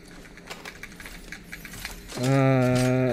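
Computer keyboard keys clack in a loose, irregular patter during a live Apex Legends session, faint and close, before a loud sustained tonal sound takes over near the end.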